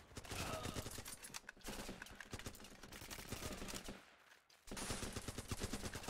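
Gunfire in the game Running With Rifles, including a silenced sniper rifle: dense rapid bursts of shots crackling nearly continuously, with a brief lull before firing resumes loudly.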